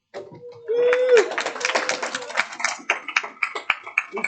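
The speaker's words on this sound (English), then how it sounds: "Keep clapping. Keep clapping." An audience claps after a security news talk opens, a dense burst of applause that swells and then thins into scattered individual claps, with a whoop and voices mixed in at the start.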